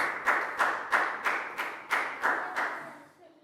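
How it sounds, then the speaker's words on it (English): A Year 3 English class claps together in a round of applause: about eight evenly spaced, crisp group claps in a steady rhythm, trailing off at the end. "Big round of applause"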